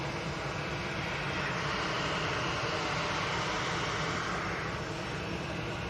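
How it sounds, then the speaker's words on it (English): An EasyJet airliner rolling along a runway, a steady, broad engine roar that holds at an even level throughout, with no voices over it. "And that EasyJet's finally rolling."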